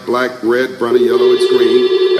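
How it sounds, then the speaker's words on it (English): A driver's mobile phone rings close by with a melodic ringtone: short, loud phrases repeat in a steady rhythm, carrying sung words. "That's the phone of my driver."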